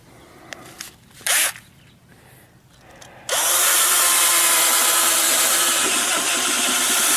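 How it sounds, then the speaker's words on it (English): A Black & Decker Matrix power tool sawing: a few faint clicks and a short buzz, then the motor starts and runs loud and steady with a high rasping whine to the end. "we'll have to break out my favorite power tool, the Matrix by Black & Decker"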